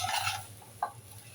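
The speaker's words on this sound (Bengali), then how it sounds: "উপর নিচ থেকে একটু ভালো করে নেড়ে মশলা সবজি ডিম একসাথে মিক্স করে নিতে হবে" Noodles with spices, vegetables and egg being tossed and stirred in a pan, a soft brief scrape and rustle followed by one small clink, quiet and close with faint sizzling beneath.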